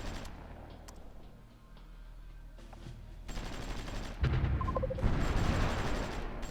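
Artillery fire in the strategy game Supreme Ruler Ultimate, a steady rumble of distant gunfire building into louder, denser booming volleys in the later half, with no talking.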